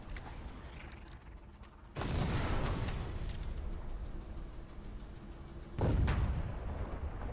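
Two heavy booming blasts of a tank cannon in the video game War 99 land about two seconds apart, each loud and followed by rumbling decay, over a mechanical background hum.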